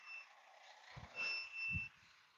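A truck reverse alarm beeping, thin high tones sounding faint and somewhat distant in a quiet setting, with a couple of low thumps partway through.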